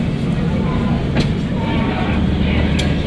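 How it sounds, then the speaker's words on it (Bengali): The Kolkata–Jaynagar weekly express, 13135, heard from a 3AC coach as it pulls out of Darbhanga Junction platform 2. A steady, loud, close rumble fills the carriage, with a couple of sharp clicks from the wheels. "আমাদের ট্রেন 9:40 দারভাঙা জংশন থেকে ছাড়লো, 2 নম্বর প্ল্যাটফর্ম থেকে"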